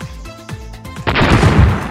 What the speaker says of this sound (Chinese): 爆炸坚果